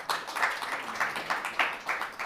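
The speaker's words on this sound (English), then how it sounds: "Let's give them a round of applause, ladies and gentlemen" A modest round of applause for a panel at a post-Covid healthcare discussion event, coming in short uneven bursts of clapping from a small audience, moderately close.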